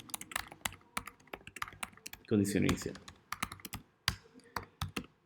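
Rapid clicks from a computer keyboard the typist is still getting used to, struck in uneven bursts during a Matlab demo, fairly close, with a brief stretch of someone speaking Spanish in the middle.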